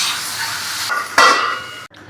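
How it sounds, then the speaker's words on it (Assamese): Salt and turmeric being stirred into food in a hot pan, a steady broadband scraping sizzle with a sharper clatter of the spoon partway through, close and fairly loud, cutting off abruptly near the end. "स्वाद अनुसार नमक हल्दी अच्छे से हिलाएंगे इसको"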